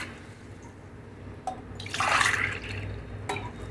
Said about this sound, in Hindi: गिलास से पानी ले रहे हैं